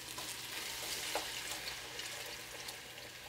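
Flour-and-water slurry poured into a hot pan of vegetables for a vegan pot pie gravy, giving a steady broadband sizzle and watery hiss at moderate level throughout, with no voices.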